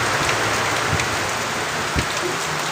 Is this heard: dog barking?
no